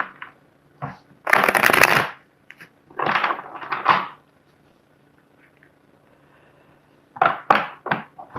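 Tarot cards shuffled in several bursts, each a dense riffling flutter lasting about a second, with a quieter pause in the middle and softer card snaps near the end, close and clear with no talking.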